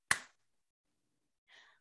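A single sharp hand clap struck for podcast recording sync, close and crisp, followed by a brief quiet gap and a soft trailing sound.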